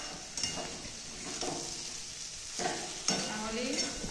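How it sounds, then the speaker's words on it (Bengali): Potatoes fry for chicken kosa, a steady close sizzle of hot oil broken by a few louder stirring scrapes and bursts. No one speaks. "আলু ভাজা হচ্ছে চিকেনে দেওয়ার জন্য।"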